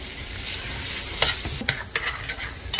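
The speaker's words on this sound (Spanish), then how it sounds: "tengo papa y zanahoria picada y esto lo vamos a sofreír un poco con tantito aceite en la misma olla" Chopped potato and carrot sauté in a little oil in a pot over high heat, a loud steady sizzle punctuated by several sharp spoon scrapes and clacks against the pot as the vegetables are stirred.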